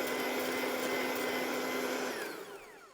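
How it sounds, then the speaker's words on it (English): A hand mixer with a whisk attachment whirs steadily while beating egg yolks with cornstarch for a custard pie, a continuous motor hum that winds down in pitch toward the end as the mixer stops. "I'm going to use my whisk attachment for my hand"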